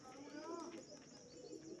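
Teddy pigeons, a breeding pair of high-flyer pigeons for sale in Punjab, give soft low cooing close by, with someone talking over them.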